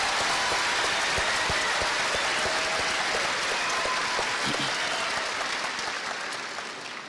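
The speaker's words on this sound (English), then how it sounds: "I would like to begin by asking all parents and teachers to give these students a round of applause for all their hard work." Parents and teachers in a large audience applaud at a 2023 high school graduation ceremony, a dense, steady wash of many hands clapping for about seven seconds before tapering off slightly at the end.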